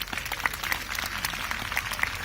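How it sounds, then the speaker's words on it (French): An audience claps for a horse demonstration in Aigle, with scattered light handclaps fading in and out at a moderate distance for about two seconds. "là vous pouvez l'applaudir très fort"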